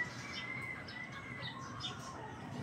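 Outdoors, a kilyawan (black-naped oriole) gives faint scattered calls and chirps against a steady background hiss, with no voices over them.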